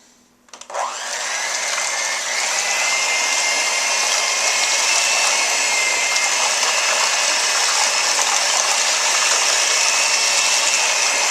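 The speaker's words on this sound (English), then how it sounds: "I'm going to hit it with this electric mixer" An electric hand mixer switches on in hot water with Monster Clay and runs continuously, a loud, steady high whine with a churning, sloshing edge from the water.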